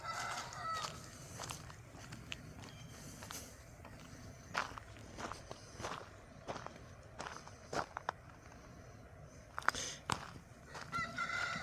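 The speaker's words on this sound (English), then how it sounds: "We got chickens next door." Faint, distant crowing and clucking from chickens and a rooster on a neighbouring rural property, with nearby footsteps crunching on the ground.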